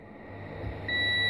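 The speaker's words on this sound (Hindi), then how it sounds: "देखो यहाँ पर बीप आ रही है" A multimeter continuity beep while probing the board of a Realme C2 phone: a steady high electronic tone that sounds alone, its pitch shifting near the end.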